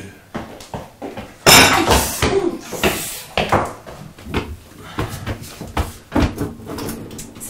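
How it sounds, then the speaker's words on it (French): A kitchen drawer is pulled open in a dark house, sliding with a loud rattle as the utensils inside clatter and clink, followed by more knocks and shuffling nearby. "dis-moi pas que tu sais quel tiroir j'ai ouvert, il fait nuit"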